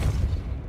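A short, deep thump from the Depulso force-blast spell in Hogwarts Legacy, a low boom that quickly dies away.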